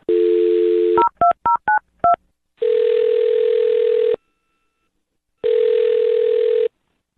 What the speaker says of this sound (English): I'll dial his phone number right now